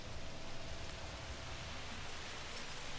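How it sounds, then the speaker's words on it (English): Steady rain falling in the dinosaur park game Jurassic World Evolution, a soft continuous hiss of droplets with no voices. "Oh, it's raining"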